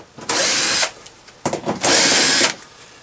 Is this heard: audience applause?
no